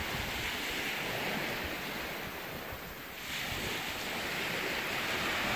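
Surf washing onto a beach on the Garífuna coast of Honduras, a steady broadband roar of waves with wind noise on the microphone, dipping briefly midway and then swelling again, with no talking.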